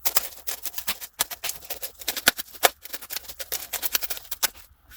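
Scissors or a blade cut steadily through a thin piece of foam for a telescope mirror repair, a rapid run of close crisp snips and crunches with short pauses.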